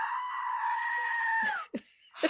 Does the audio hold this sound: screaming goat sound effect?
yes